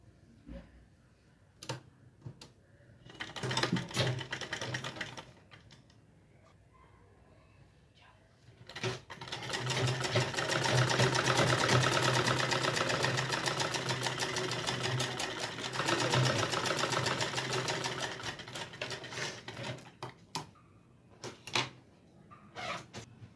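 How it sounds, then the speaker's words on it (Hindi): Sewing machine stitching pajama pant fabric, with a short whirring burst, then a long steady run of rapid mechanical stitching close up, framed by ticking clicks and handling knocks, with no talking. "तो इस तरह से ही हम यहाँ पर सिलाई शुरू कर देंगे"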